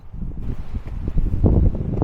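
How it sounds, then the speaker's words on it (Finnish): Strong wind gusts at Hurtanmaa along the Salpa Line in Finland, buffeting the microphone with low rumbling bursts that swell louder toward the end. "Täällä muuten tuulee taas aika pirun lujaa."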